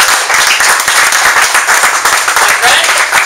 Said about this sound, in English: Give Nikki a big round of applause!